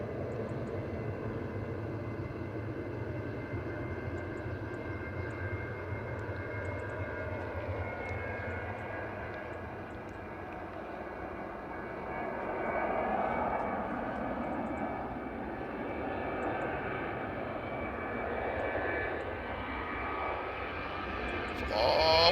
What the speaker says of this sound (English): We have got the Jet2 about to go out as well. And it's on the roll.